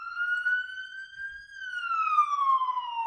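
A loud electronic siren wails alone, its pitch rising slowly and then falling in one smooth sweep, sounding close and clear.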